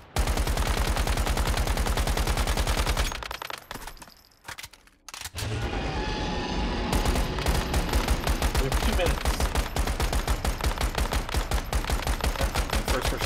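Rapid automatic gunfire blasts in the video game Once Human, sustained loud bursts that pause briefly midway and then resume in a dense, continuous stream up close.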